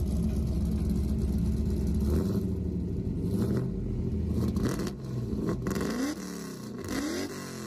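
A Pontiac Firehawk (fourth-generation F-body) engine revs loudly and rumbles through a 2-into-1 performance exhaust, rising and falling through several throttle blips, close by.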